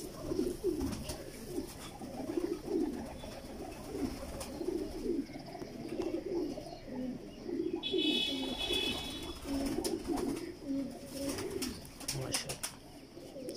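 Masse pigeons coo in a steady run of low, throaty, repeating calls throughout, fairly close, with a brief higher chirping burst partway and background murmur.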